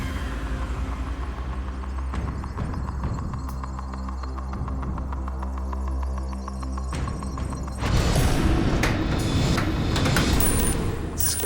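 A Tipping Point arcade-style coin pusher machine, a drop zone game on a TV game show set, runs with a steady low mechanical hum and throbbing drone. A louder rumbling, clattering burst follows midway, with no one speaking.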